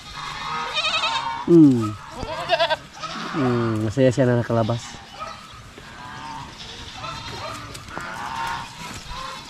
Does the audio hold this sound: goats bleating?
yes